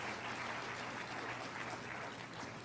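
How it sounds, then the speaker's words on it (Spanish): Steady applause from a church congregation during a sermon, an even wash of clapping held at a constant level throughout, fairly faint and distant, with no talk over it. "Yo creo que merece otro aplauso el Señor."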